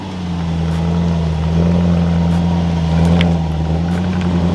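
A Land Rover Defender 90 V8 on stock tires crawls up a steep off-road climb in low-range gearing, its engine giving a loud, steady, close-up drone that holds an even pitch throughout, with no talk.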